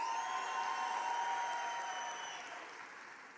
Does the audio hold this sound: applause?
yes